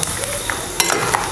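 Chopped coconut frying in hot oil until reddish for Sangli-style bhadang, a loud, steady close sizzle with faint clinks of stirring.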